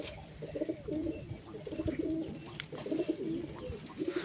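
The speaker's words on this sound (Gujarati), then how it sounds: "અમારા દિવ્યેશભાઈ આ નવું ઘર બનાવ્યું છે કબૂતરા માટે." Pigeons coo repeatedly inside a newly built homemade pigeon house, their soft, rolling calls coming in rhythmic bursts close by over a steady background hum.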